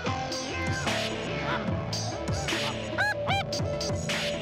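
Several geese honk repeatedly, their calls overlapping against a steady background, with a few sharper cries standing out near the end.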